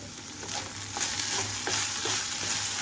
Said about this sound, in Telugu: ఇంకా మూత పెట్టకుండా ఇలాగే ఉంచి వేయించుకుంటున్నాను.